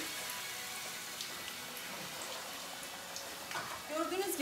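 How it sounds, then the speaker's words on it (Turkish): Potatoes frying in hot oil in a pan, a soft continuous sizzle and crackle with a few louder pops near the end. "Bunları güzel bir şekilde altı üstü nar gibi kızarana kadar kızartıyorum"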